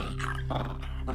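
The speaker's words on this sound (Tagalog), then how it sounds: "lalo pa nang marinig ko ang galit na pag-angil ng aso" Dog growling as a sound effect in a horror story, a short low rumbling snarl with rising pulses, close and loud with no talking.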